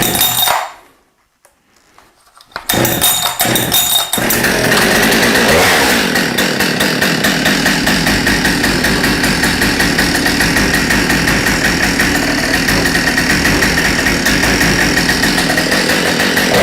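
Two-stroke hedge trimmer engine: after a brief quiet stretch and a few pull-start tugs, it fires up loudly and settles into a steady, buzzing run close by.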